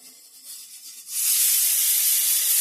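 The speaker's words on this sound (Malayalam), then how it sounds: "നമ്മുടെ 3-ാം വിസിൽ കൂടി വന്നിട്ടുണ്ട്." A pressure cooker cooking mutton majboos lets off its third whistle: a quiet hiss starts, then after about a second turns into a loud, steady rush of escaping steam that lasts to the end.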